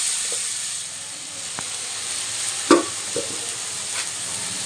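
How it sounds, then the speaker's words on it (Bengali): Coriander and chilli paste stir-frying in a pan gives a steady hissing sizzle with a few sharp spatula scrapes and knocks, close and fairly loud. "এটাকে একটু ভালো করে কষবো"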